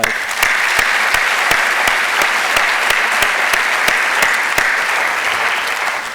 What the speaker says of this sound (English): just one more round of applause for you guys